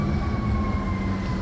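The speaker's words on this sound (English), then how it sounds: "The sirens." Emergency vehicle sirens sound in a city street, a steady wailing tone held over continuous traffic rumble, moderately loud and without speech.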